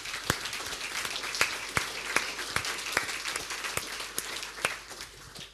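Audience applause at a DrupalCon Munich 2012 conference talk: a steady wash of many hands clapping, with sharp individual claps popping out, moderately loud and continuous, with no speech over it.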